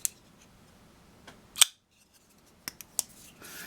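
A Spyderco Sage 5 folding knife with a compression lock is worked by hand, giving sharp metallic clicks and snaps as the blade opens and closes. Several crisp clicks come close up in near silence.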